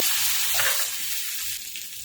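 Curry leaves and green chili paste hit hot oil and sizzle loudly, a bright, continuous hiss close by with a brief stir. No one speaks.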